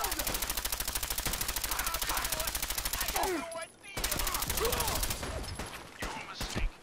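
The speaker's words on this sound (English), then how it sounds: "Mang, Mang, stop shooting at me." Sustained rapid automatic gunfire in Fallout 4 during a fight with a rust devil, loud continuous bursts with a short break, while someone talks over the shooting.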